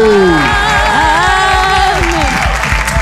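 A church congregation claps and cheers steadily during worship, with music and sustained tones playing over the applause throughout.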